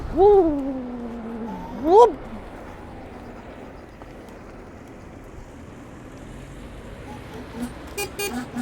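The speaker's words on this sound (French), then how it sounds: "Elle a une klaxon en plus d'origine." Two short electronic horn honks from a Dualtron X2 electric scooter sound close by, followed by quiet background rumble and a few faint clicks.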